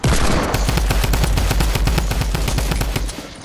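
Rapid, dense video game gunfire during a squad battle, loud continuous bursts of shots with a steady rhythm over about three seconds, fading slightly at the end.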